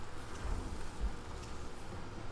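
Steady rain hisses continuously in the video game RimWorld, a soft, even wash of noise with faint low rumbles and no voices.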